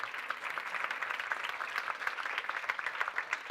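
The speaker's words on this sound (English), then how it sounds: "let's give them a round of applause." An audience at a school community gathering applauds community members standing up, a moderately quiet, sustained patter of many hands clapping at an even pace.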